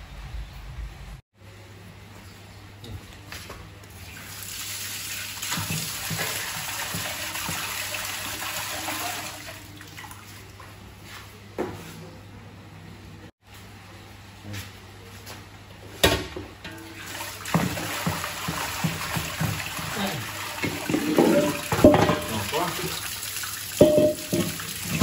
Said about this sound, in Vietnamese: Đây, đi chùi nồi.